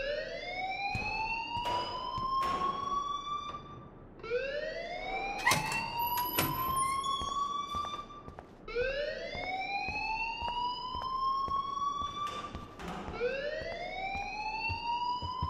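In the video game Life is Strange, an alarm wails in repeating rising sweeps, each climbing and holding before starting again, loud and continuous across the whole stretch with no speech over it.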